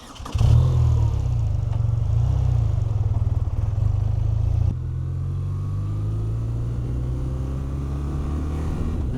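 A 2026 BMW R 12 G/S boxer-twin motorcycle pulls away and rides on, its deep, close engine rumble strong and steady at first, then settling into a quieter, even drone with rising tones as it gathers speed.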